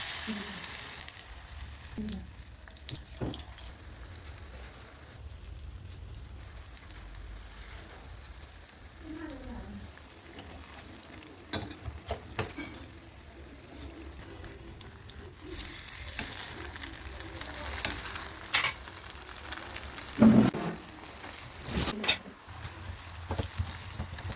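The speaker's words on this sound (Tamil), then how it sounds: "சூடான எண்ணெயில் போட்டு பொறிச்சு எடுத்தீங்கன்னா சுவையான போண்டா ரெடி ஆகிடும்" Tapioca bondas pressed from batter and frying in hot oil, a soft, steady sizzle with scattered crackles and occasional stirring clatter, growing busier toward the end.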